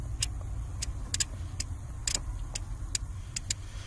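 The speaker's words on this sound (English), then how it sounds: "you'll hear this relay activate when I touch it to this black wire to ground" A relay for the parking lights on a 2007–2018 Jeep Wrangler with a plug-in remote start ticks in a quiet run of sharp, irregular clicks over a low background hum.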